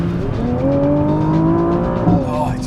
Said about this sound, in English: it's just such a frantic engine